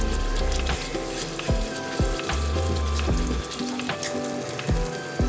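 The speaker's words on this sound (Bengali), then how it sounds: "গরম জল দিয়ে এবার ভালো করে এটা আমি কষাবো যতক্ষণ না" Spice masala fries in hot oil with hot water for a Bengali-style mouri katla fish dish. A steady, dense sizzle is broken by regular thumps and scrapes of stirring, close up and without speech.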